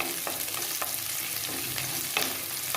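Onions sauté with salt in a hot pan, a continuous sizzle broken by a few sharp scraping strokes of a spoon stirring them, close and fairly loud with no talking.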